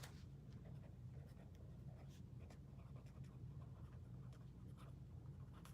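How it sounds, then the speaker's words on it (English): Pen scratching notes on paper at a cluttered desk, a soft steady scribble with faint intermittent strokes over a low background hum. "Hang on, I'm writing this down."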